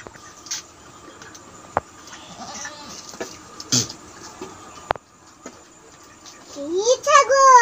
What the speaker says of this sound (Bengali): এরা মারামারি, এরা লড়াই লাগছে ছাগলগুলো দুটোতে।